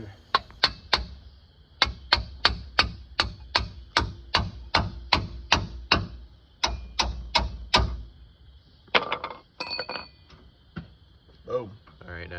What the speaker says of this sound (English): Then we're just going to grab our pickle fork here and hammer it in.